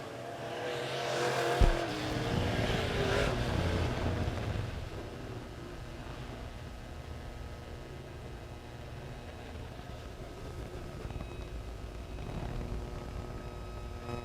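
Late model race cars on a dirt track make a steady roar of engines and rumble. A sharp knock comes early on. The roar is loudest at first, then settles into a continuous mid-distance drone with no talk over it.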